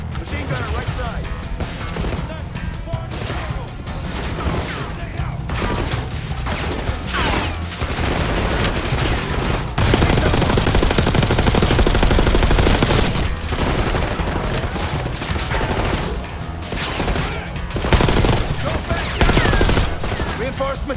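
Dense, loud enemy gunfire in Call of Duty: Black Ops 6, with sustained fusillades and machine-gun bursts. It runs continuously for the whole stretch and swells into heavier volleys partway through, with shouted voices mixed in.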